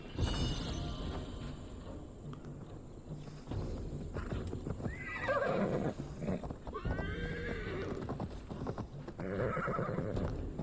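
A horse in the video game Assassin's Creed Valhalla whinnies and snorts several times over steady clip-clopping hooves, fairly close and clear, with game sounds underneath.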